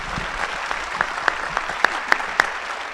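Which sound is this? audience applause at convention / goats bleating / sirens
audience applause at convention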